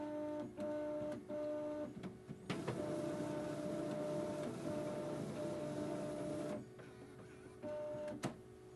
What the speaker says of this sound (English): While it's loading ink and pumping the ink through those tubes